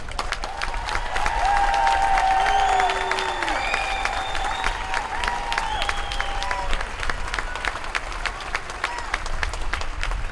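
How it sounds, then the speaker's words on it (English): A rally crowd breaks into steady applause mixed with cheers and whoops, loud and dense at first, then easing slightly while clapping carries on throughout. "Please give them a big round of applause."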